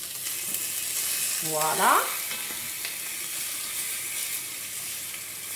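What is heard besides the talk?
rabbit pieces (gigolettes) frying in a pan, being turned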